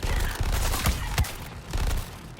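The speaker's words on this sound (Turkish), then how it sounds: "Abi minigun efsane. Dehşet bir silah." A minigun in Suicide Squad: Kill the Justice League rattles out rapid, dense bursts of gunfire with a few sharper cracks, loud and close, without voices.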